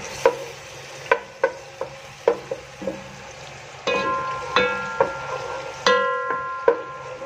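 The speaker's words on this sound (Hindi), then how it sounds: "अब हम इसमें डालेंगे 2 खाने के चम्मच अदरक लहसुन का पेस्ट, और इसको फ्राई कर लेंगे" Two tablespoons of ginger-garlic paste fry in hot oil, a low, steady sizzle with sharp, irregular metallic taps and clinks of a spoon against the pan, heard alone.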